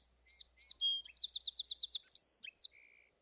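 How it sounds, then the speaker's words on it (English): Song sparrow song, opening with a few repeated notes and then breaking into a rapid trill and varied chirps, clear and close with no talking. "most common sparrow over the summer is a song sparrow, and it starts out with 3 notes that are the same"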